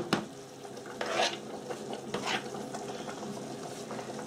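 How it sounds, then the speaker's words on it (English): Ground beef mince cooking in a pan, with a steady bubbling sizzle and sputtering spits along with stirring scrapes throughout, fairly close and continuous. "I probably can hear it boiling away, and it shouldn't be."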